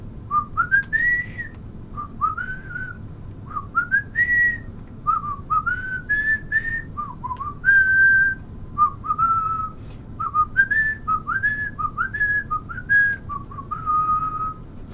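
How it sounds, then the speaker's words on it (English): A person whistles a tune alone, phrase after phrase of clear bright notes with short pauses between them, fairly close over a low background hiss. "Sorry, I had to whistle it."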